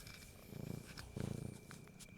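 A cat purrs close by in two rhythmic, rumbling bursts over a soft, steady background hiss.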